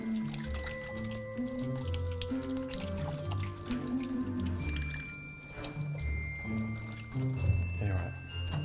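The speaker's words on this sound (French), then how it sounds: "je vais aller me rincer les pattes, bien collantes" A tap runs into a sink while someone rinses sticky hands, a steady pour of water with splashing, heard close under ongoing speech and some household clatter.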